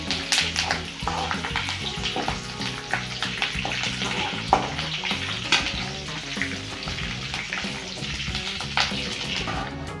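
Curry leaves crackle and sizzle crisply in hot oil for a North Karnataka churumuri snack, a steady, close frying hiss with small popping bursts and occasional stirring scrapes throughout.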